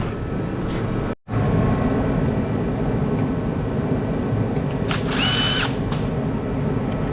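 A power tool whirs steadily while screws are removed to take apart a scrap microwave, loud and continuous for several seconds with one brief cut-off near the start.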